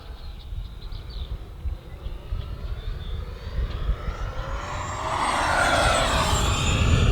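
A remote-control jet, a $600 model aircraft, roars steadily overhead and swells louder toward the end as it passes close, with no talk over the engine noise.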